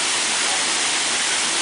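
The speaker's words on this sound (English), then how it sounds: "Speaking of a boat, there is a waterfall." A waterfall pours in a steady, dense, even rush of water noise that fills the whole clip, loud and close, with no voices.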